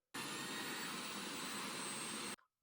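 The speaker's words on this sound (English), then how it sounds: "Here you can see the sound of the mixer." A Sujata MG03 1000-watt mixer grinder motor runs with a loud, steady high-pitched whine and dense roar for about two seconds, then cuts off abruptly.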